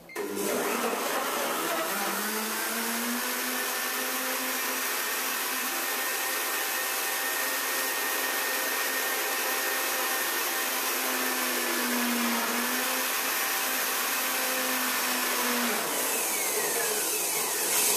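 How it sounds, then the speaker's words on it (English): A blender whirs steadily through a raw avocado chocolate orange mousse, a loud continuous motor drone with a pitch that dips as the thick mixture loads it, then cuts off near the end. "And you're just blending until you've got a really nice, smooth, creamy texture and all the avocado is thoroughly blended."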